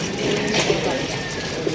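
Soft pigeon cooing close by at a pigeon market in Lahore, low murmuring calls running under a steady background hum.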